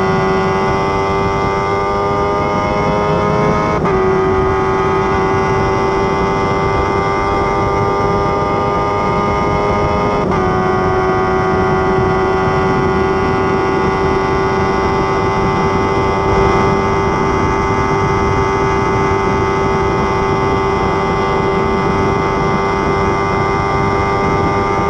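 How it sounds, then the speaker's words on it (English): Steady, high-pitched whine of a tiny Formula 1 race car engine during race laps, held at a constant loud level with slight pitch shifts as the car changes gear. "I'll just let you enjoy these two laps without my voice, with just the pure sound of racing."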